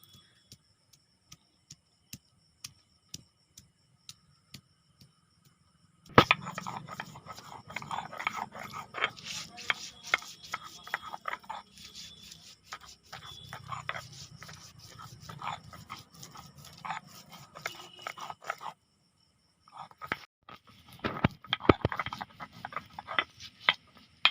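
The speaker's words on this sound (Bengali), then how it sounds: "আদাটা বেটে দিচ্ছে আর কাঁচা লঙ্কাটা বেটে দেবে" Ginger and green chillies ground into paste by hand on a stone, heard as a steady scraping, crunching rub that runs close by for long stretches, after a quiet start of faint ticks, with a short pause near the end.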